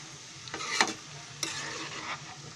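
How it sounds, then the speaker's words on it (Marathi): Ghevda (flat bean) vegetable with peanut powder and masala being stirred in a pan, a few scraping sweeps of a spoon against metal over a soft sizzle, close and moderately loud, no talking. "आणि आता सगळी भाजी मी मिक्स करते."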